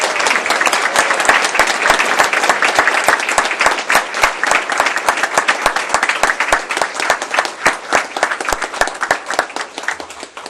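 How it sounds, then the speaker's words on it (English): An audience applauds a high school chorus at a county school board meeting, steady dense clapping for about ten seconds, loud and close, thinning slightly toward the end. "please join me in a round of applause for the chorus from Hickory Ridge High School"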